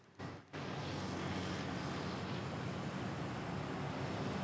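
A Korean Air airliner in blue livery at Manila airport roars with a loud, steady jet engine rumble that begins abruptly after a brief quieter moment and holds close and constant.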